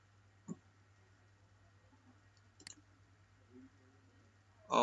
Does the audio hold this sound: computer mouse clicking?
yes